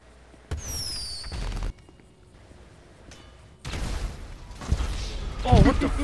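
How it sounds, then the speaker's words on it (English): Firework launcher shots in GTA Online: a whistling, rising rocket streak and a loud burst, then further blasts and crackling explosions, with short gaps between them. "It's a firework launcher."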